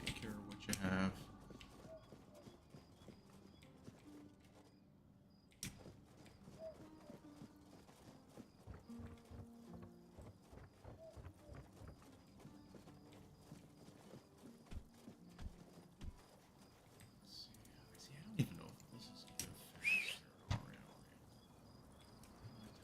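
Horse hooves clip-clopping in the video game Tainted Grail: The Fall of Avalon, a faint, loose run of steps under soft game ambience, with a few louder thumps and a brief whinny-like sound near the end.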